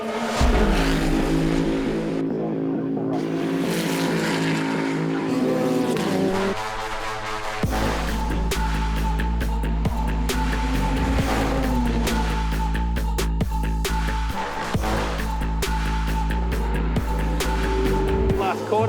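Ferrari Challenge race cars lapping Mount Panorama at Bathurst, a loud sustained engine roar with shifting pitch and gear changes, continuous throughout as the cars pass at speed.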